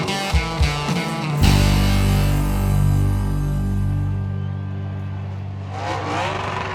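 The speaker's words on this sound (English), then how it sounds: "Cup Series cars testing on track at North Wilkesboro Speedway" NASCAR Cup Series cars test on track at North Wilkesboro Speedway, a loud engine roar swelling as a car passes close, then fading into the distance before another approaches.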